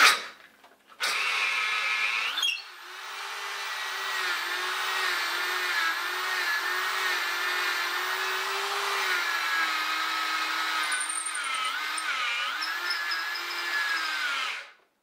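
A power drill with a shovel-flag auger whines steadily for a long stretch boring into the ground, its pitch wavering slightly under load, then winds down and stops.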